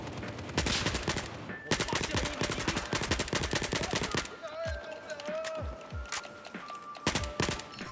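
M416 assault rifle in Battlefield 4, rapid close automatic bursts with crisp repeated shots, followed by scattered more distant gunfire and battle noise, with a voice talking over it.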